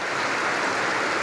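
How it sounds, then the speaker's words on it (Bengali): Steady rain pours down on a hot pre-Eid day, a dense, continuous hiss with no break, close and fairly loud throughout. "রহমতের বৃষ্টি হচ্ছে।"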